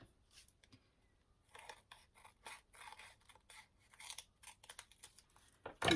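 Scissors snip away the excess edge of a scrapbook photo card, giving quiet, irregular cutting clicks and paper rustles close by, with a louder crinkle at the very end.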